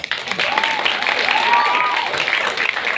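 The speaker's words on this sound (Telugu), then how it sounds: "వాడి గురించి చప్పట్లు కొట్టండి" An audience at an awards celebration in Visakhapatnam claps for a child actor: dense, steady applause filling the moment, with a voice faintly audible over the clapping.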